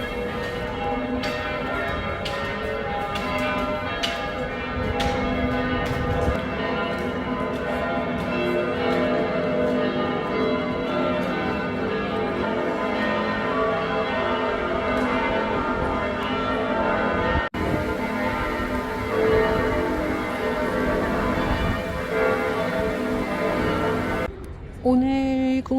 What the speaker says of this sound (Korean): 안식일을 알리는 성당의 종소리가 도시 전체를 휘감는 듯 울려 퍼지고